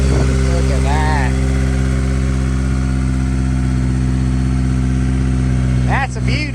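A Honda S2000 that had sat unused for years runs under its own power, its engine humming loud and steady up close, with brief voices speaking over it.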